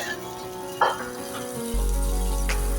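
Butter-based chutney for pav bhaji sizzles on a hot griddle, a steady frying hiss that jumps louder partway through, with a few soft clinks of utensils and no talk.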